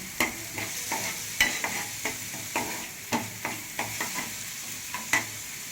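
Onions sizzling in a pan for an egg masala bonda, with a steady soft frying hiss and a spoon repeatedly scraping and tapping the pan in irregular, distinct knocks, close up and with no talking.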